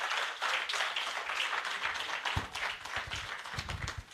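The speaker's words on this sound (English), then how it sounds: "Let's keep clapping for our own registrar." An audience at a pharmacy event in Lagos claps steadily in a dense patter of applause, growing sharper and more distinct near the end.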